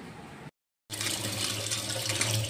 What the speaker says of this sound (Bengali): চালটা ভালো করে ধুয়ে নিব।